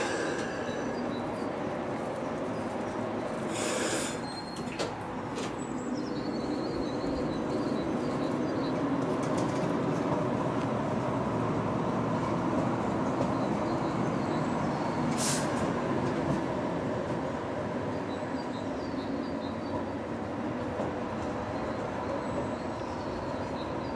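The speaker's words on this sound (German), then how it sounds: "An der Endstelle der U41 ist der nächste Zug auf dem Weg." A Dortmund Stadtbahn U41 light rail train running toward its terminus, a long steady rumble with a brief squeal near the start, while pigeons coo nearby in the open air.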